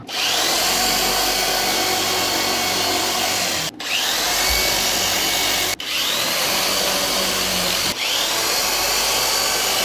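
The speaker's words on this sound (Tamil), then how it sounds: "இப்போ ட்ரில் பண்ணிடலாம்." A power drill whirs loudly and continuously, stopping briefly three times between bursts as four holes are drilled one after another for a monitor mount.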